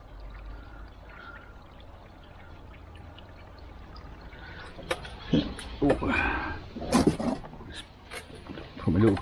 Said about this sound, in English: Water coming through there.